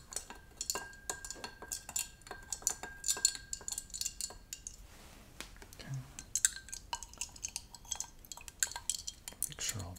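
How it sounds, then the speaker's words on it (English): Utensil stirring liquid in an apothecary container, with repeated light clinks and taps against the vessel in a loose ticking rhythm, close and soft. "So I'm just going to stir those around."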